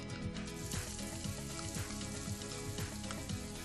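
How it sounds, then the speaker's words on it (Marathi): Onion sizzles in oil with crackling cumin seeds during a pav bhaji tempering, a loud, dense frying hiss that continues steadily throughout with no voices. "थोडं जिरा मस्त तडकलं की त्याच्यामध्ये आपण कांदा ऍड करून घेऊयात"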